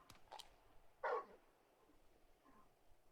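Torgal, the large dog in the video game Final Fantasy 16, lets out a single short, fairly faint bark amid quiet game ambience, with a couple of soft clicks before it.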